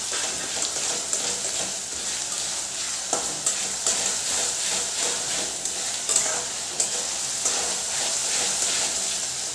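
Chopped onion with a ground chana dal spice paste frying and being stirred in a pan for besan, a steady close sizzle with occasional scraping strokes, no talking.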